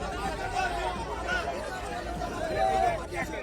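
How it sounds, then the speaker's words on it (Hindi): Thousands of protesters blocking a road in Falta, a dense crowd babble of overlapping voices with shouts rising and falling, steady and close throughout. "फलता में हजारों हिंदुओं की भीड़ ने चक्का जाम कर दिया।"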